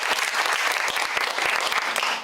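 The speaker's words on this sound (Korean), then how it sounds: "박수 한번 주시죠." Parents applaud during a school open day and parents' general meeting, a loud, dense round of clapping from a large crowd that fills the whole moment without talk.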